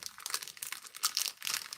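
Scrapbook paper being handled and crinkled up close, a steady run of crisp rustling and crunching bursts with no voices.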